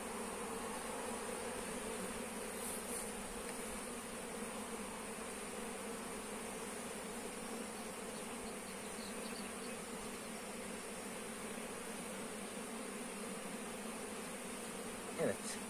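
Honeybees buzz steadily and softly around an open hive as frames are inspected at an apiary, a continuous even drone with no voices.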